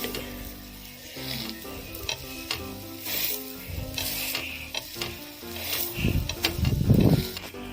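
A bread omelette sizzles loudly in a frying pan as it is pressed down, a steady frying hiss with scraping stirs and spatula pushes, swelling into bursts of stronger sizzle near the end, with no talking.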